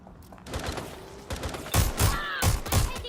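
Gunfire in the video game Watch Dogs Legion comes as a string of sharp bursts that grow louder and closer, several rapid shots cracking in quick succession over faint game sounds.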